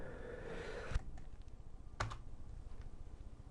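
Typing on a computer keyboard while entering a word into an Excel spreadsheet cell, a few soft key clicks with two sharper taps, quiet and close with no talking.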